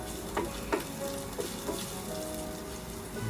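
Garlic and chili flakes fry in a hot pan with a steady close sizzle, broken by a few louder scraping stirs near the start, no voices.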